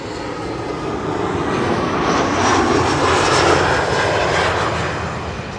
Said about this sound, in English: KLM flight 1800 is arriving from Düsseldorf